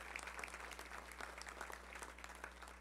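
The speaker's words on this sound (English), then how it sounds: "Let's give her a round of applause." An audience at a Little Rock Touchdown Club luncheon applauds, a faint, continuous patter of many hands clapping over a low steady hum, with no voices rising above it.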